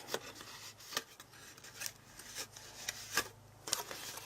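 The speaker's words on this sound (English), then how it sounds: "And if there's a little extra, just rub it off." Fingers rub excess material off a paper treat box, giving soft, close scratchy strokes and light taps in an irregular rhythm, faint and alone.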